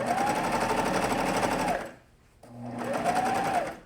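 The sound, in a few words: sewing machine stitching a jersey neckline seam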